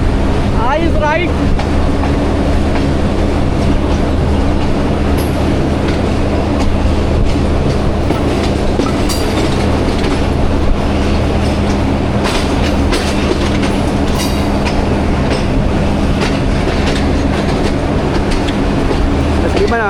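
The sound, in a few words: train arriving at railway station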